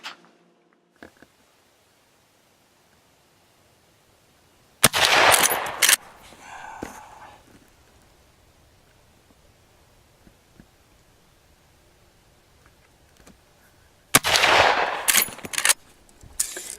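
A Marlin 336Y rifle fires at an outdoor range: two sharp, loud bursts of shots with echoing tails, separated by a long quiet stretch.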